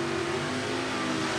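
Drag racing cars, a Corvette and a Nova, roar at a drag strip, with one loud sustained engine note holding steady across the moment, no voices.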